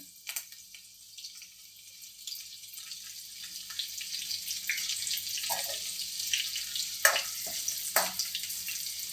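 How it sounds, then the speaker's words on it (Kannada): Garlic frying in hot oil with cumin seeds and curry leaves, giving a steady, moderately loud sizzling hiss with scattered crackles and pops throughout, no talking. "ಬೆಳ್ಳುಳ್ಳಿ ಚೆನ್ನಾಗಿ ಫ್ರೈ ಆಗಬೇಕು"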